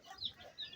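White hens give a few soft, brief clucks, faint and close, in a short burst with little else around them.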